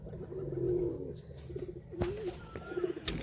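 Domestic pigeons in a home loft coo in low, rolling, repeated phrases, several birds overlapping close by, with a few soft clicks and rustles between calls.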